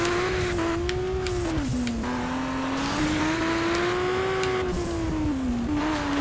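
Racing car in the Juiced 2 video game, its engine holding a steady loud drone that dips and rises as it brakes and powers through corners, a faint tire squeal at the turns, no talking.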